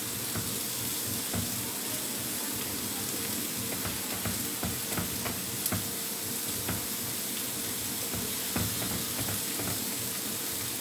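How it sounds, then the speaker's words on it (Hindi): Noodles sautéing in a hot pan, with a continuous close sizzle broken by frequent clicks and scrapes of stirring, while someone speaks briefly. "तो नूडल्स को भी मैं थोड़ा सा सौते कर लूँगी"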